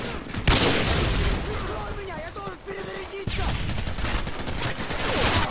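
Bursts of automatic gunfire and sharp shots in Call of Duty Modern Warfare 2, loud and near, with a strong crack early on and a voice speaking briefly in the middle.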